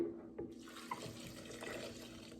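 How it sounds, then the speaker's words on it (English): A cup of fresh water pours onto cashews in a kitchen, a short soft splashing trickle that starts after a brief clink and runs quietly to the end, with no talk. "now to the cashews, I'm going to add 1 cup of fresh water."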